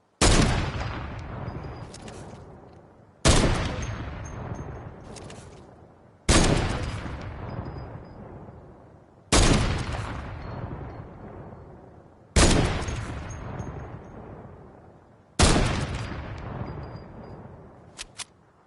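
Six single sniper shots during Fortnite target practice, each a sharp, loud crack followed by a long fading tail, fired at a slow steady pace about three seconds apart with nothing else heard.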